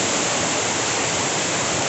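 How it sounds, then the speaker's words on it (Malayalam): Olichi waterfall in Thrissur, Kerala, running strong after rain, gives a loud, steady roar of rushing water with no break and no voices. "ഇന്നലത്തെ മഴയ്ക്ക് നല്ല ഫോഴ്സായിട്ടുണ്ട് വെള്ളം."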